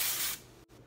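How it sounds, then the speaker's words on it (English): A short, close hiss of dry shampoo sprayed into hair lasts about a third of a second, then stops and leaves faint background. "I'm gonna take the dry shampoo and just kind of spray it throughout the hair"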